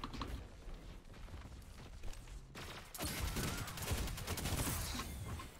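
Submachine gun fire in the video game Destiny 2 comes as rapid automatic bursts. The firing is sparser at first, then breaks into a dense, continuous rattle of shots and effects over the final seconds.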